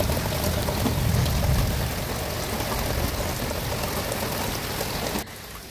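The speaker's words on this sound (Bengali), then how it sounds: "অনেক জোরালোভাবে বৃষ্টি হচ্ছিল, একটুখানি ক্যামেরা বন্দি করলাম" Heavy rain falls outside a doorway, a loud, close patter and splash on surfaces that eases slightly partway through before stopping suddenly near the end, with no voices.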